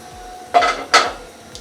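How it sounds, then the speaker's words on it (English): A Spanish omelette is flipped from the pan onto a plate, with two quick scraping clatters of metal and crockery close by, followed by a faint tap. "what you need to do is to quickly flip the omelette onto the plate"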